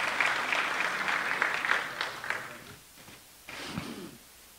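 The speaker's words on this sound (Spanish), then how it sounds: "Un aplauso para Mario León, por favor, que también se lo merece." Audience applause at a municipal announcement event by the mayor of Pereira, a dense burst of clapping that fades after about three seconds, followed by a short flurry of claps and a few murmurs.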